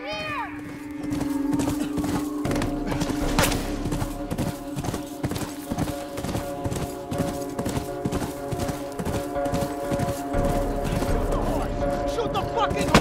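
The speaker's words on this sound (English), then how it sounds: "Shoot the horse!" Horse hooves clip-clopping at a steady gallop in The Last of Us Remastered, a rapid drumming rhythm throughout with a brief whinny near the start, mixed with game ambience and a player's voice.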